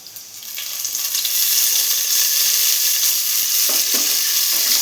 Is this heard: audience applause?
no